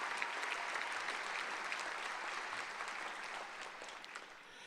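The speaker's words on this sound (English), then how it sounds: "Give them a round of applause." A school audience claps in sustained, dense applause at a teacher-of-the-year ceremony, steady and full throughout before tapering slightly at the end.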